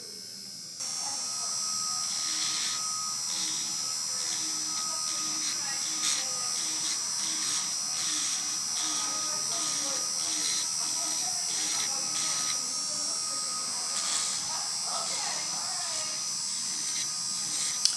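An AIRSEE EH3 electric nail drill runs at 4,000 RPM, giving a steady high-pitched whine that switches on abruptly and holds close and constant throughout, with faint soft talk beneath it.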